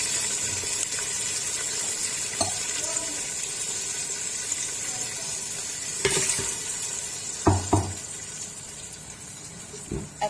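Tomatoes and green chili masala paste with a little water sizzle steadily in a pan, with a spoon scraping and knocking against the metal now and then.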